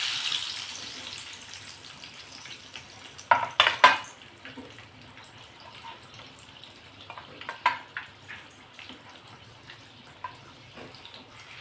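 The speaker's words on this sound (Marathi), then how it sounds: "आता ह्या दोन सुद्धा झाल्या आहेत तळून आपण काढून घेणार आहोत ह्या" Capsicum (shimla mirch) frying in oil in a pan, a soft steady sizzle with a few clinks and scrapes of a utensil partway through, fairly close and quiet, no voices.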